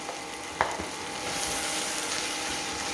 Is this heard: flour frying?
yes